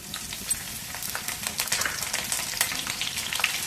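Freshly cut green chillies dropped into well-heated oil with cumin, crackling and sizzling loudly and steadily up close.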